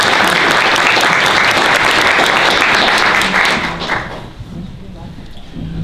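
An audience applauds steadily and loudly as a speaker is welcomed to the podium at an evening talk; the clapping fades toward the end.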